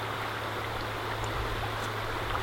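Fast, oxygenated river water rushes steadily at a barbel and chub fishing spot, a constant broadband hiss and low rumble without breaks or voices.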